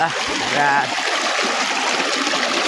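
Close, steady rushing and splashing of flowing stream water fills the whole moment, with a brief faint tonal blip near the start.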